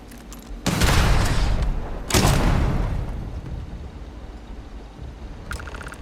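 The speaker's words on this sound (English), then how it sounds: "What's your gun that's doing the explosion?" Two heavy explosive booms roll out in quick succession, each followed by a long rumbling decay and crackling gunfire-like bursts in Starfield.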